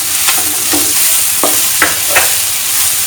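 Pepper powder, onion and capsicum sizzle steadily in a hot pan while a spoon scrapes and stirs through them in several short strokes, close and loud.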